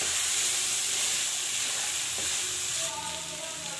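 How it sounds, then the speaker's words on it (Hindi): Chana dal sizzles and crackles loudly as it fries in hot oil and spices, a close, steady frying hiss with a brief stir partway through. "मसाले में डाल के दाल को भून लेंगे।"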